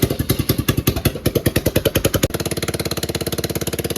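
A GY6 150cc go-kart engine idles after a carburetor swap, a loud, close, steady, rapid putter that loosens to a slower, slightly rougher pulse about halfway through, with no talk.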